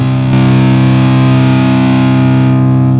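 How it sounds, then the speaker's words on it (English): Tight distortion setting on a GE250 guitar amp pedal: one loud, dense distorted chord is struck and then rings out steadily, fading only slightly, with no voices. "Let's check out this tight distortion."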